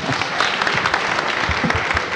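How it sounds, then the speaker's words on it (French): Dense, steady applause from an audience at a comics conference, a full room clapping for the guests at the close of a panel, with no voice standing out. "Je vais vous demander d'applaudir tous nos invités."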